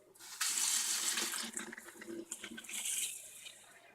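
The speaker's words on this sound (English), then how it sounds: "So I'm going to turn on my water" Water gushes from a kitchen tap as milk powder and water are prepared for homemade Greek yogurt. The tap opens abruptly after a short pause and runs as a loud, close, steady splashing stream.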